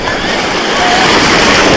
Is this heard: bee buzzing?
no